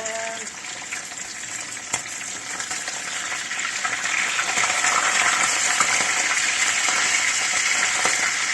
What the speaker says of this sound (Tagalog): So, I start to fry it now.